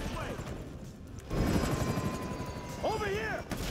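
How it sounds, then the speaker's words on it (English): Buzzard attack chopper from GTA V, its rotor and engine drone running steadily through the scene, with bursts of gunfire and game effects over it and a voice briefly heard. "While advancing, a buzzard attack chopper will appear."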